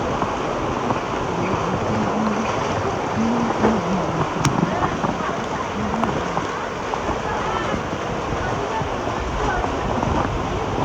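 Steady, dense roar of heavy first-day monsoon rain pouring down over a market in Ulhasnagar, constant and loud throughout, with a few faint voices murmuring beneath it.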